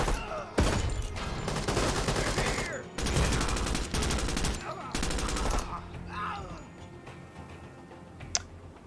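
Loud bursts of gunfire from a SWAT-style tactical shooter, several rapid volleys in quick succession, then fading to quieter scattered shots and a sharp single crack near the end.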